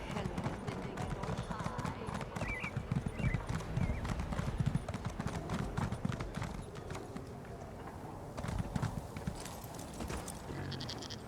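Hooves clip-clop steadily on hard ground amid a busy background with a voice talking, and a faint horse whinny rises briefly, in the video game Elder Scrolls Online.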